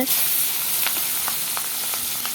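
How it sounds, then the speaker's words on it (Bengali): Steady hiss of onions frying in hot oil in a pan, with a few sharp pops and crackles scattered through; no voices. "কড়াইতে তেল বসিয়ে দিলাম এখন পেঁয়াজগুলো ঢেলে দেওয়া হবে"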